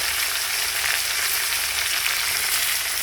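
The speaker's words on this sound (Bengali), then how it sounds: "আলু পেঁয়াজ একসঙ্গে ভাজা কষিয়ে নেবে।" Potatoes and onions fry together in hot oil, giving a loud, dense, continuous sizzle that stays steady throughout with no voices.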